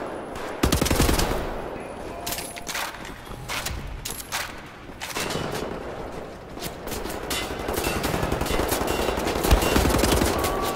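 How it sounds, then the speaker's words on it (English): Machine-gun and rifle fire aimed at the player in the shooter Wolfenstein: The New Order, loud rapid bursts and sharp shots continuing across the whole stretch, with occasional voices. "Help me! I'm being shot!"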